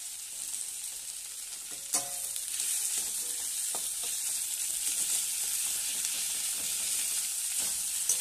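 Ginger-cumin paste and onions fry in oil for a tangra fish curry, giving a loud, even sizzle close by, with a sharp spatter or stir near two seconds and light clinks as the spices are worked.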